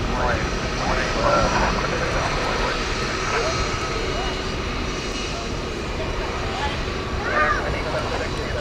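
A Boeing 757 jet airliner at DFW Airport at night gives a steady, continuous engine roar that fills the whole scene, with faint distant voices in the background.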